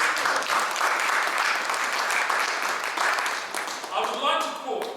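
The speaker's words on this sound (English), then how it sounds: "A round of applause." An audience at a Nigerian Youth Congress inauguration in London breaks into sustained applause, steady and full for about four seconds, with voices talking over the end as it fades.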